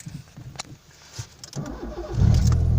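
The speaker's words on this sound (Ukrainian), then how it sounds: "Заводимо машину." A car engine cranks and catches after a few quiet clicks and rustles, then settles into a loud, close, steady idle rumble.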